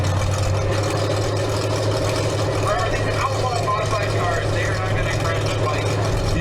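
The engine of a 1974 Cadillac demolition derby car runs with a steady low droning hum, close and constant, while other noise and voices from the derby track carry over it.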